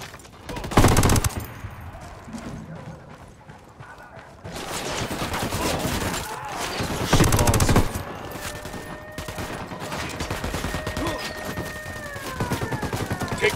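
Gunfire in the Ghost Recon Wildlands video game: loud bursts of rifle fire and scattered shots crackle across a tense firefight, with heavy volleys near the start and middle and lighter distant shooting between.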